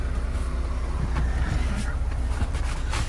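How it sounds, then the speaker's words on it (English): A 2019 Freightliner Cascadia diesel truck with a DD15 engine and DT12 automatic transmission idles outdoors with a steady low rumble, mixed with wind buffeting on the microphone and faint background noise. "we're going to go outside and have a listen to this engine running"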